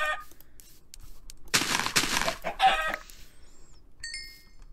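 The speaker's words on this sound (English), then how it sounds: "I can kill this chicken." Chicken clucks from the Minecraft video game, a few short bursts in the middle of the clip, moderately loud against a quiet background with faint game tones.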